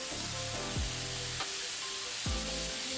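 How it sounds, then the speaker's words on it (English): A meat patty for a kimchi bacon cheeseburger sears on a hot surface, giving a loud, unbroken hiss of frying fat that runs close throughout, with a couple of brief low tonal sweeps from background equipment. "that meat patty's developed a nice crust, so that means the meat has been seared properly"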